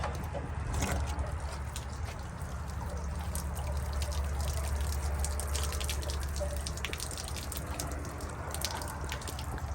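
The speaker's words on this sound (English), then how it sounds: "Now 6 gallons of water is going to come rushing out of here" Water gushing and splashing out of the drain of an Arctic Fox 1150 truck camper's 6-gallon water heater, a continuous loud pouring stream with dripping and spattering, close by and without talk.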